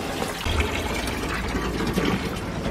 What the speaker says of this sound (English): There we got water coming out